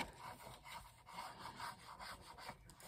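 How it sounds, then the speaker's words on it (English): Glue being spread across paper while making a stacked envelope folio, a soft steady rubbing and brushing sound in repeated strokes, fairly quiet and close, with no talking. "let's go ahead and put some glue on here."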